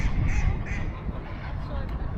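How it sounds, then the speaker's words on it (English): Ducks and their ducklings quack in a busy marketplace, the quacks rising over a dense outdoor crowd murmur with people talking nearby throughout. "All these little ducks with their babies."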